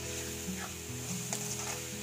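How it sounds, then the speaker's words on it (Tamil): Chilli chicken fries in a pan with soy sauce and tomato sauce, a steady close sizzle with light scraping of a stirring spoon and no voices. "நல்லா ஃப்ரை பண்ணுங்கள்."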